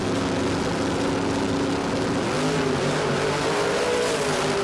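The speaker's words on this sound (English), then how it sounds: "In the Pro Street Radials lane. And about to go down the track for another solo pass." A Pro Street Radials drag race car at Warwick Dragway makes a solo pass, its engine a loud, sustained roar with strong harmonics whose pitch shifts partway through the run.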